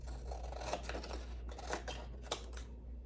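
Scissors snip through excess paper at the corners of a handmade hardcover journal, several close, crisp cuts in an irregular rhythm with no talking.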